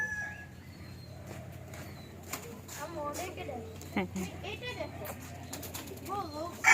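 Silkie chickens and other pet fowl at an eco resort in Bangladesh, with faint clucks and coo-like calls scattered beneath people talking nearby.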